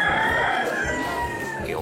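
A mouth-blown rooster call gives one sustained, reedy crow-like tone lasting about two seconds, loud and close.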